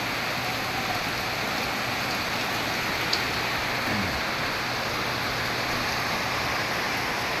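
Steady afternoon rain falls in a dense, even hiss, with a faint thin drip or two. It stays unbroken and moderately loud throughout, with no voices.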